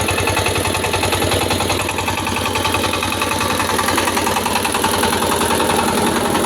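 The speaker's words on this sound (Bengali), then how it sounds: "আপনারা দেখতে পাচ্ছেন একটি ছেলে টিলার চালাচ্ছে" A power tiller's engine runs steadily while ploughing a farmer's field, a loud continuous mid-pitched chug with rapid regular pulsing and vibration that holds constant throughout.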